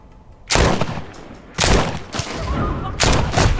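Four loud gunshots in The Walking Dead: Saints & Sinners boom out one by one at uneven spacing, each with a ringing decay, with no talk over them.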